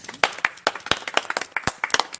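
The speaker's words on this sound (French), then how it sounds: "on peut les applaudir" Studio audience clapping for a team, a brisk scattering of individual hand claps, close and loud, forming light applause rather than a dense roar.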